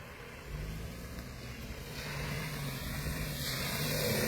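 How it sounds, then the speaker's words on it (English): Minibus racing along a flooded road in Linden, Guyana, its engine drone and water rush growing steadily louder from a distance as it approaches. "a minibus is coming."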